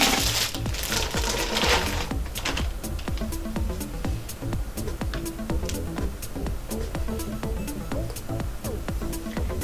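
Package of adhesive vinyl sheets being opened from a mystery combo box: crinkling plastic and paper rustle, then steady rapid clicking and tearing taps close to the microphone, alone without talk.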